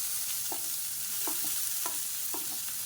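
Finely chopped medium-sized onions are stirred in a hot, oiled pan: a continuous sizzle with about five distinct scraping spatula strokes at a steady rhythm, close and clear, no talking.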